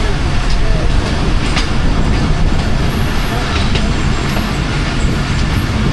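The Thall Express, 130 Down, rolls at a railway station with a steady, loud rumble and faint clatter of wheels on rails, a continuous broadband roar without pauses throughout.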